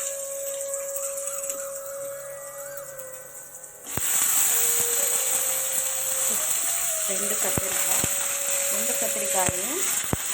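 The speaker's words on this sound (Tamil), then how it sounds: "முருங்கைக்காயை போட்டு நல்லா ஒரு வதக்கிட்டு" Oily sizzling of drumsticks sautéing in a pan for sambar, a steady bright hiss that jumps louder partway through, with occasional stirring clinks and faint tones.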